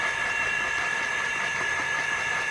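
A small water pump engine runs steadily at a constant idle, with a droning hum and a high whine throughout, loud and close.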